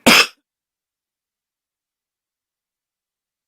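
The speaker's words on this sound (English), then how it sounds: "I'm going to cough again." A single short, sharp cough burst, close and fairly loud, followed by silence.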